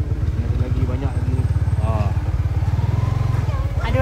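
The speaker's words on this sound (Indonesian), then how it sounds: "Bukan kuda, ni motor." A motorcycle engine at a camper van gathering, running with a steady rhythmic low idle throb close by while people talk over it.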